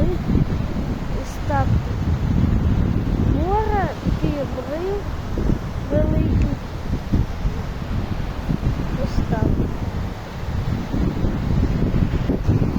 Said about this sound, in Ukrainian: І ось вже саме море.